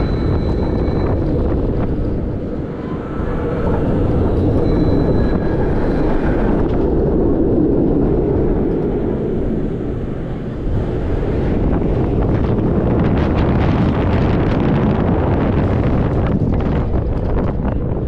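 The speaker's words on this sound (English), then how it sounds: "Would you take a ride on this roller coaster?" A ride on the Tempesto roller coaster at Busch Gardens Williamsburg: loud, continuous wind buffeting and rushing roar from a close microphone throughout, rising and falling with the coaster's motion.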